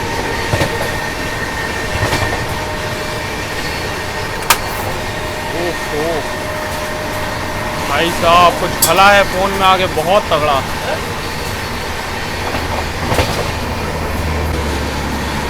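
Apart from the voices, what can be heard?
express train running on parallel track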